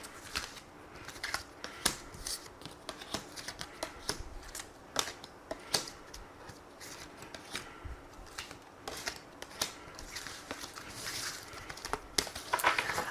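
Tarot cards being shuffled by hand before a reading, a steady run of soft, close riffling and papery flicks with small irregular snaps, continuing without pause and with no voice over it.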